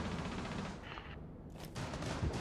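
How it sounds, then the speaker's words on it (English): Gunfire in Rainbow Six Siege, quiet and somewhat distant, a few sharp shots and a short burst scattered across a couple of seconds amid muffled in-game ambience. "I just got shot from swinging my window."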